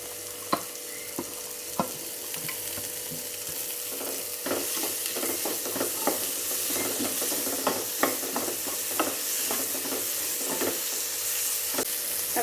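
Coconut slivers and curry leaves fry in hot oil for a jackfruit seed masala, giving a steady, close sizzle with scattered sharp crackles and pops throughout.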